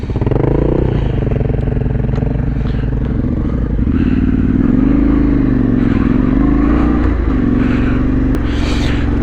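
Large, heavy adventure motorcycles ride on rough trails in the Yorkshire Dales, a loud, steady engine drone with rising and falling revs and some clatter from the terrain.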